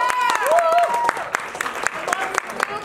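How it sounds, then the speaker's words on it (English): Audience applause at a dance showcase, scattered claps under a voice speaking over a microphone, with brief whoops. "Everybody give Kylie a round of applause just for being up here."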